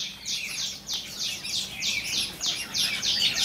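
Wild birds chirp together in a mixed flock that includes white-cheeked birds and young birds. Bright, busy calls repeat steadily throughout, fairly close and loud over a quiet background.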